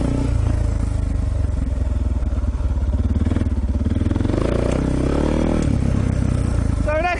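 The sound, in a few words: motorcycle riding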